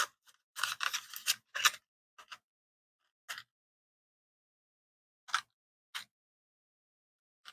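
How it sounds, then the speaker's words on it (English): Scissors snip open a glue package at a hobby crafting table: a few short, crisp cutting bursts in quick succession, then scattered single clicks and snips with silence between. "I'm using scissors, not a knife."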